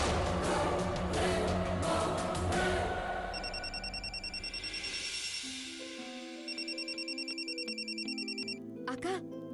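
A telephone rings with an incoming call, repeated electronic ring bursts in a steady pattern following a stretch of background noise and music, no speech over the ringing.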